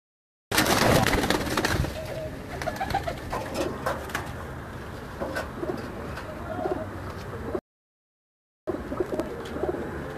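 Pigeons cooing on a rooftop, a dense, continuous chorus of soft coos and flutters close by, fairly loud throughout with a brief gap near the end.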